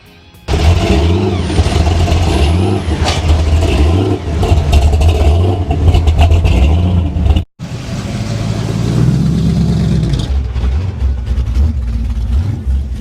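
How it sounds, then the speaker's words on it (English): Classic car and monster engines rev loudly and idle at a 2007 Tucson car show. Deep engine rumble and rising revs fill the recording, cut briefly by a sudden drop before another engine roars back up close. "recreational vehicles, and monster engines that flex their muscle"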